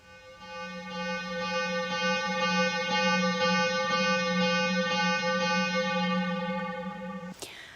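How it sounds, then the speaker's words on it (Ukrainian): A Ukrainian civil alert siren for an artillery shelling threat: one steady, harmonically rich electronic drone that holds for about seven seconds before cutting off abruptly, loud and continuous, with no talk. "А так звучить тривога, коли є загроза артобстрілу."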